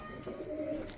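Breeder pigeons kept for raising young coo softly in a brief, low, throaty burble, close by and with no talk over it.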